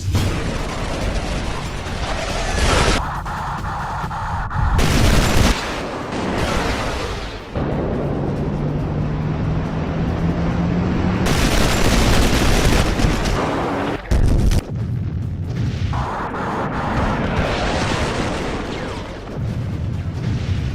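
Bombs burst during an air attack in the 1982 Falklands war, heavy loud blasts and dense roaring noise with abrupt cuts, some mechanical clatter, and no voices.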